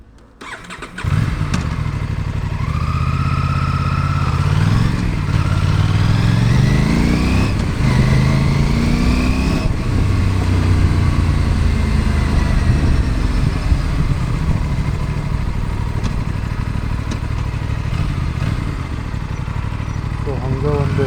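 An Aprilia RS 457 motorcycle on its stock exhaust fires up, then revs hard in loud climbing bursts before settling into a rough, steady idle that carries on close by, while someone talks over it.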